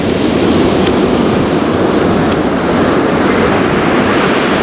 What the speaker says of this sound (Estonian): Siuke laine tuli siin.